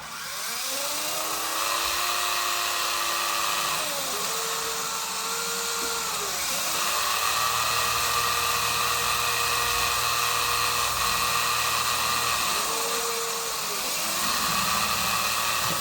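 A small toy helicopter's tail rotor whines steadily and close by, its pitch rising and dipping several times over a constant mechanical hum.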